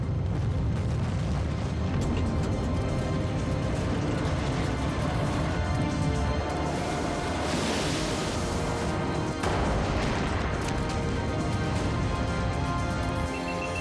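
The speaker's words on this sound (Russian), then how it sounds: "еще одна взрывная волна прокатилась в носовой" A deep, sustained muffled rumble of an underwater explosion shockwave through the bow of the submarine Kursk, swelling into a hissing surge midway before settling back into a heavy roar.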